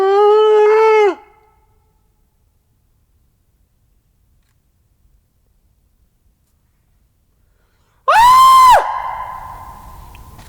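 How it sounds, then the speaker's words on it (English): Played-back recording of a bloodcurdling scream call at a Bigfoot search spot, two loud wavering shrieks about eight seconds apart, each roughly a second long, the second trailing into a fading echo, with silence between. "That's a bloody murder scream."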